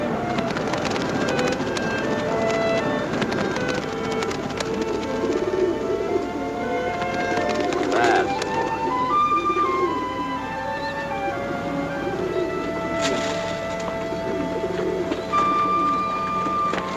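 Pigeons coo steadily throughout, a dense flock of soft, overlapping burbling calls close by with a constant low background murmur, and no talk.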